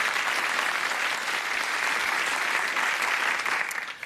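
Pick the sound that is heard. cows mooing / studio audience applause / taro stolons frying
studio audience applause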